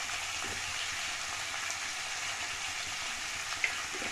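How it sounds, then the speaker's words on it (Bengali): Cauliflower pieces fry lightly in oil over a medium-low flame, giving an even, moderately quiet sizzling hiss that holds steady throughout with one small click near the end. "ফুলকপি টুকরোগুলো অল্প করে ভেজে নিতে হবে"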